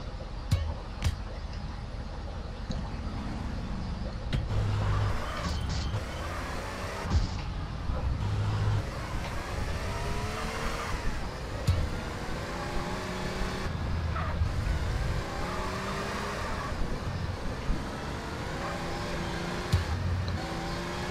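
A car driving in GTA San Andreas hums with a steady engine drone, revving up and down in repeated rises through the gears, with a few clicks and bumps, moderately quiet.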